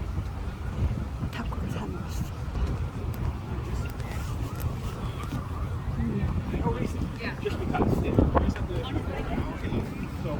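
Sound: wind blowing at Brooklyn Bridge Park

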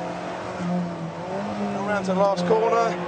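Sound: car engine accelerating through gears on test track

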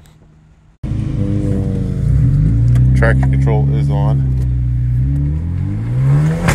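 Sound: straight-piped catless turbo Hyundai Genesis Coupe engine revving

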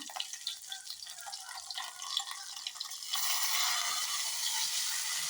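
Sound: tempering spices crackling in hot oil

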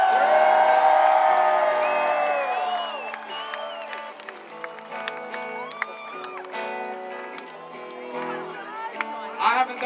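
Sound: rock concert crowd cheering

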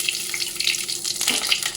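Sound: frying dry chillies, bay leaf and panch phoron in oil

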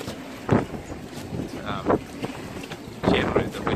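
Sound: strong wind gusts while sailing a boat

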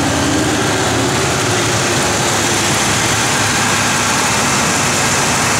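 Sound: 1971 Oldsmobile Cutlass SX engine starting and running

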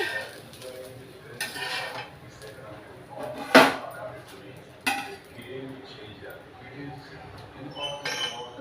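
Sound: taking ragi dosa off the pan onto a plate

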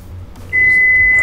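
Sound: microwave oven beeping after warming coffee

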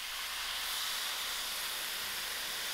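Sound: wine poured into hot mussel pot, steaming

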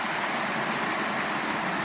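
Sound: Irpin river flowing past old mill wall

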